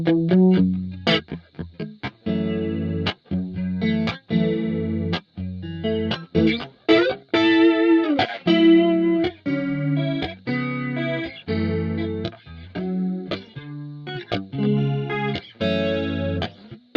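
Electric guitar through a DigiTech XP200 Modulator on a deep 2-voice chorus setting, a sustained run of chords and riffs with a swirling, thickened, slightly distorted tone, loud and continuous without speech.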